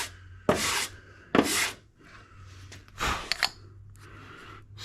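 Warped John Deere X540 mower cylinder head and block being resurfaced by hand on sandpaper: several close, gritty rasping strokes in uneven bursts separated by short quiet gaps.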